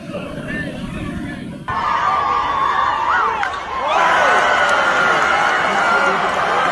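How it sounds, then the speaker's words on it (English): Lively Saturday night baseball crowd roaring for a grand slam home run, a loud, sustained wall of cheering that swells partway through, under an announcer talking. "Lively Saturday night crowd"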